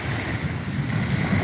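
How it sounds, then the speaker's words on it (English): Steady wind rushing over open water with waves washing continuously, loud and close with buffeting wind noise on the microphone throughout. "I'm waiting for this wind to die."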